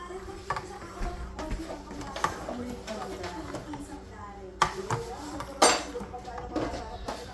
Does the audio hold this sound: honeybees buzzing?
no